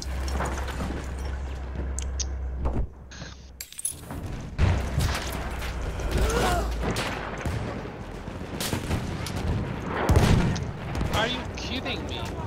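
Sniper and battlefield gunfire in Battlefield 1 on the Suez map, with sharp shots and booming blasts cracking over dense combat noise while a player talks over the action.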